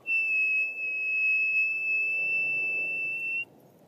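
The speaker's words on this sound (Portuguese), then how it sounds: "Eu venho com um assobio." A steady, high, pure whistle holds one pitch for about three seconds and then stops abruptly, loud and close over a low rumble.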